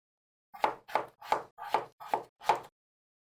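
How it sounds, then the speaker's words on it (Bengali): A knife chopping potatoes on a board: six crisp, evenly spaced cuts, close and distinct, with silence between them. "আলু কেটে নিব।"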